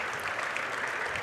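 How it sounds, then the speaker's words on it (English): Crowd at a high school basketball game between the Wahpeton Huskies and Breckenridge Cowboys, standing and applauding in a gym, a steady dense wash of clapping throughout. "Everybody is on their feet applauding."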